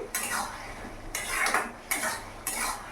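A spoon stirs bottle gourd curry in a metal pan, making several scraping, clinking strokes in a steady rhythm, close and moderately loud, with no talking.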